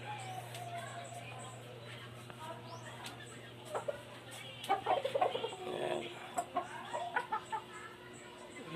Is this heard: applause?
no